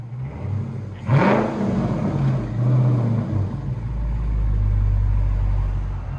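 A Dodge Charger Scat Pack with a 6.4L HEMI V8 and Flowmaster Outlaw exhaust fires up with a sharp rev, then settles into a deep, loud, rumbling idle that swells again near the end.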